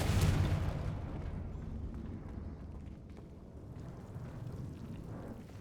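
A Confringo fire spell bursts in Hogwarts Legacy, a loud booming explosion at the start that rumbles and fades into a long, low crackling tail.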